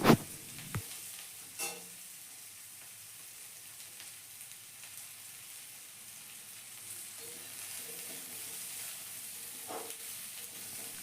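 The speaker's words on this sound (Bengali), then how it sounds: "পেঁয়াজ আর পটল দেখো ভালোভাবে ভাজা ভাজা হচ্ছে" Onion and pointed gourd frying in a pan, a faint, steady sizzle like light rain, with a few utensil knocks and stirring scrapes near the start and later on.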